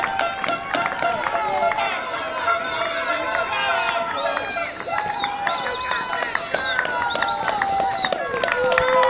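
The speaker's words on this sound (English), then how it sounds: "Crowd's going wild." Spectators cheer and shout along a UTMB ultra-trail finish stretch as the lead runner arrives, a steady dense roar of crowd noise with whistles and calls, close and loud throughout.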